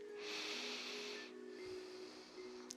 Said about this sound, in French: faire 3 grandes respirations